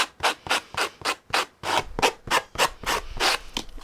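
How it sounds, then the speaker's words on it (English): A sanding block rubs back and forth across a composition notebook cover in steady, rhythmic strokes, about a dozen close, moderately loud scraping passes with no talk. "You can use a sanding block, like one of these, or sanding sponge, and you can actually come down and you can actually sand down."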